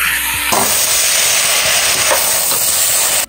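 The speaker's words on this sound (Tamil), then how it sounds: "இந்த ஸ்டேஜில் தக்காளி, நாட்டு தக்காளி 4 தக்காளி போடுறேன்" Four native tomatoes drop into a hot pan, and a loud, steady sizzle and hiss bursts out close by and carries on without pause.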